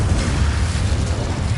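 An Incendio fire spell cast in Hogwarts Legacy, a loud, dense roaring burst of flame that rumbles steadily through the whole moment with no break or quiet gap.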